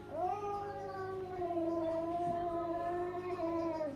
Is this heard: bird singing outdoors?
no